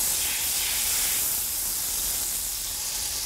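Steady, loud sizzling hiss from a ladle of pasta water hitting hot oil in a pan for shrimp scampi, a continuous wash of steam and spatter without a break.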